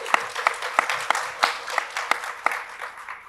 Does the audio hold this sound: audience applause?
yes